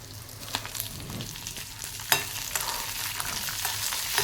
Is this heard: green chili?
yes